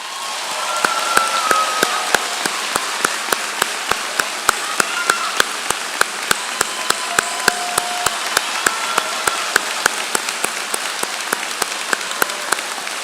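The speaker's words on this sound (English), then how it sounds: "please stand for a well-deserved round of applause" A large audience at a university commencement ceremony applauds steadily, a continuous dense wash of clapping with scattered sharper individual claps standing out, sustained and even for the whole stretch.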